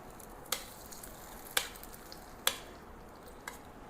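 Fried ingredients are tipped into erissery in a pan for an Onam Sadhya meal, giving a faint steady sizzle broken by four sharp ticks of a spoon against the pan, with no voices.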